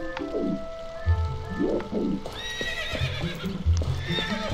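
A horse in The Legend of Zelda: Twilight Princess HD whinnies in a couple of rising-and-falling calls over hollow clip-clop hoofbeats, with faint rain-like ambience in the game world behind.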